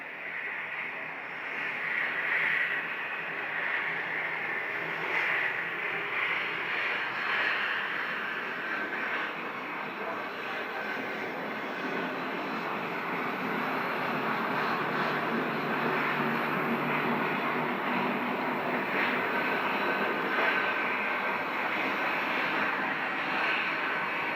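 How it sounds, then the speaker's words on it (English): An Embraer Phenom 300 business jet at Scottsdale airport gives a continuous engine roar that holds at a fairly even loudness for the whole stretch. "this aircraft is an Embraer Phenom 300"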